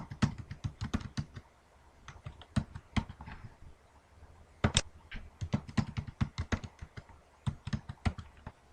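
Typing on a computer keyboard during a Linux Mint setup in VirtualBox, with quick irregular key clicks in short bursts and brief pauses, close and fairly quiet.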